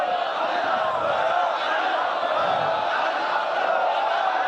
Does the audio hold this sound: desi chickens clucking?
no